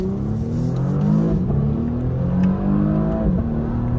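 Porsche Panamera E-Hybrid with a V6 pulling away from a stop light, engine note climbing through the revs with a brief dip as it shifts, heard close from inside the car.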